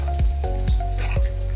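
Spicy Kolhapuri-style shev bhaji curry bubbling in a pan on a gas stove, thick gravy popping with soft repeated blips and a steady sizzling hiss, close and alone.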